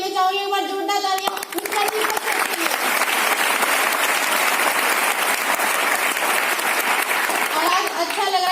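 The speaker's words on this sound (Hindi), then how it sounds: "अपलाइन के लिए मैं चाहूंगी एक बार जोरदार तालियां।" Audience applause at a Smart Value company event in Delhi, steady, loud clapping from a crowd that swells after a woman's speech and continues for several seconds, with her voice heard briefly at the start and end.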